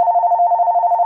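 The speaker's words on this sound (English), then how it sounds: "this volume can increase also the volume of that speaker, the voicemail, and the ringer" An AT&T DECT 6.0 expandable cordless phone, model CL82407, rings with a loud, steady electronic warble that pulses rapidly, close and alone, with a brief dip partway through.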